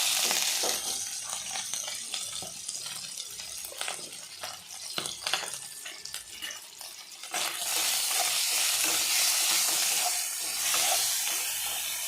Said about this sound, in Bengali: হলুদ লবণ দিয়ে আমি ডিমগুলো আগে ভেজে নিব।